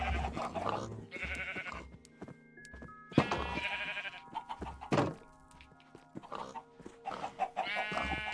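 Blocky game animal noises in the Minecraft-style modpack Oceanblock 2, with moos and bleating calls and clucks repeated among soft thunks, moderately loud over quiet background sound.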